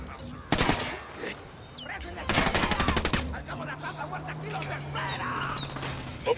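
Automatic gunfire in Ghost Recon Wildlands, two loud close bursts of rapid shots followed by more distant scattered shots and ambient game sound, while someone speaks.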